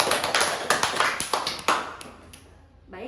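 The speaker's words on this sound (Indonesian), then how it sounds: "Kasih tepuk tangan untuk Ibu Salwa." A small group applauds during a group therapy session, a short burst of sparse, loose hand claps that thins out and fades within a few seconds.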